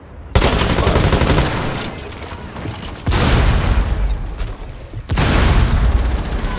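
Gunfire in Rainbow Six Siege during a hostage match: three loud bursts of rapid automatic fire start abruptly, each rattling for a second or two with booming echoes, separated by brief quieter gaps.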